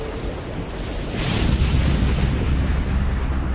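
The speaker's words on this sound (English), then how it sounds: "the colossal explosion at 10:50 p.m. rips the end off it" A colossal explosion on a North Sea oil platform, a deep sustained roaring rumble that swells and holds loud and dense, with no voices.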